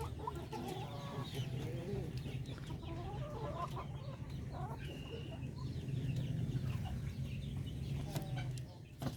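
Darag chickens cluck steadily on a Filipino chicken farm, a busy flock close by over a constant low hum, with no talk.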